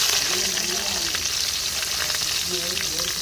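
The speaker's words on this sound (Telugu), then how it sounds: "పచ్చిమిర్చి ఉల్లిపాయ రెండు కలిపి వేసేసుకున్నాం బాగా ఫ్రై చేసేసుకోవాలి" Onions and green chillies frying in hot oil with curry leaves, a continuous loud sizzle with soft stirring scrapes and faint voices in the background.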